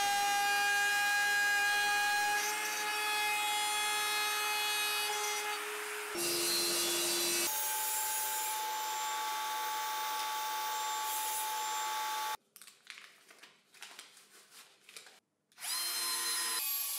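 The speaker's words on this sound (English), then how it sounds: "I make the necessary holes and adjusting grooves with the 3D router." A 3D router cuts holes and adjusting grooves in wood, making loud, whining passes that start and stop, then drop to quieter clattering and brief gaps near the end.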